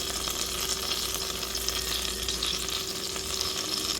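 Beef saltica reheats in a pan over very low heat, giving a soft, steady sizzle and faint frying crackle that runs unbroken and fairly quiet at close range.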